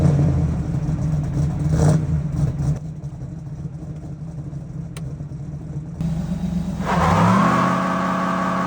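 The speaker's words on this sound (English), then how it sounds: "this differential is open and only one tire spins in the burnout" A Ford V8-swapped 1985 Toyota pickup with an open differential does a one-wheel burnout, the engine revving and droning loudly, dropping to a lower idle-like hum, then climbing again in a rising rev near the end.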